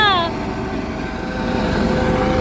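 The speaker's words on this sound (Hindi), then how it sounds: "देखो हेलिकॉप्टर उड़िला देखिला" A helicopter flies overhead near the Maha Kumbh gathering at Prayagraj, a steady loud rotor drone filling the clip beneath a rising whistle-like tone at the start.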